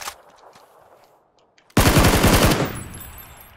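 Sudden loud burst of rapid automatic machine gun fire in a video game, a dense stuttering volley after a quiet stretch with faint background game sounds.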